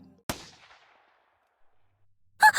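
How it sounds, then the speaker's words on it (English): A single sharp gunshot cracks out nearby in the Steins;Gate video game, its echo fading over about a second into silence before another burst of sound begins. "There really was a gunshot."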